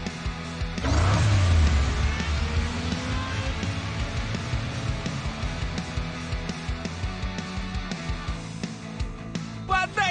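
A toy race car revs and speeds along in a Hot Wheels racing video game, the engine whine swelling loudly and holding steady over game music and effects.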